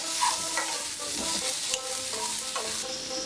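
Raw mango pieces, cut with the stone, sautéed and stirred in a pan, giving a steady close sizzle broken by spatula scrapes and clinks, with no voices.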